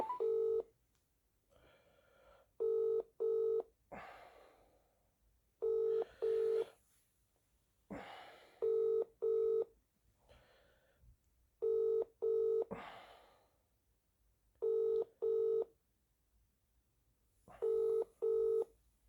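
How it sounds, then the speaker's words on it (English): A mobile phone call to a Vodafone number rings out with repeated double-burst ring tones, each pair separated by a pause. Soft clicks and line noise sit between the rings, and no one speaks. "Ring you up Christopher Browell."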